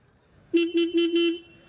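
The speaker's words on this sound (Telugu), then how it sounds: "ఇక్కడ ఆర్న్ కొడితే ఆర్న్ బాగానే వస్తుంది" A 2018 Classic 350 motorcycle horn beeps in four quick, evenly spaced toots, a thin buzzing tone close by, then stops, leaving near silence.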